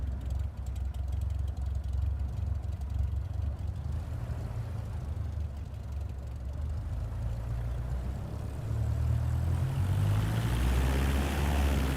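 A Cessna engine taxiing in Microsoft Flight 2024, a steady low droning hum at idle that holds for several seconds and swells slightly louder toward the end, with no talking.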